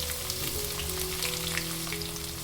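Finely chopped onion and green chilli fry in a little hot oil with cumin and peanuts, giving a steady, dense sizzle that runs close and even for the whole stretch, with faint stirring.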